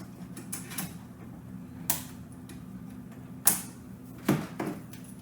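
A few sharp plastic clicks, spaced apart over quiet background hiss: PC RAM retention arms snapping into place nearby while building in a Phanteks Evolv X case.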